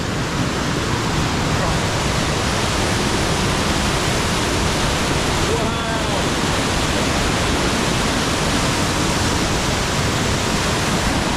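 Sickle Tarn waterfall pouring strongly down wet, mossy rock, a loud, dense, unbroken rush of falling water close by throughout.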